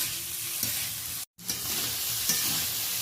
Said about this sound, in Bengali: চিংড়ি মাছ এই পেঁয়াজের সাথে বেশ ভালো করে ভেজে নেব।